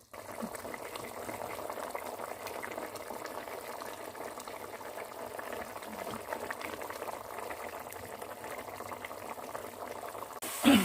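Aloo gosht meat gravy bubbling steadily in a pot with added water, a continuous close, even simmer with soft crackle and no talking.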